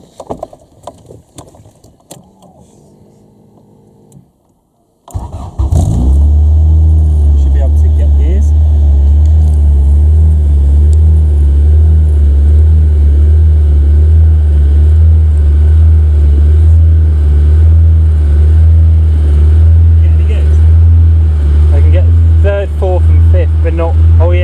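A Honda Civic EF engine cranks briefly and catches at about five seconds, then idles steadily and loudly for the rest of the clip, with a low, even hum. People talk over it near the start.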